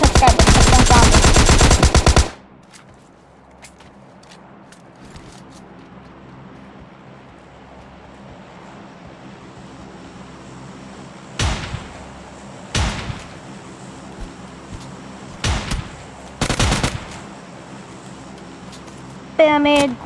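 In the mobile shooter PUBG Lite, AKM and M416 rifles fire one loud, dense automatic burst at the start, then several shorter, fainter bursts spaced over quiet in-game ambience.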